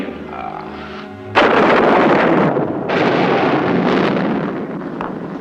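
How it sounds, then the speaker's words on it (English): Thunder breaks with a sudden loud crack that rolls into a long, heavy rumble, then a second swell, as a drought ends in a 1965 Western. "Thunder and lightning."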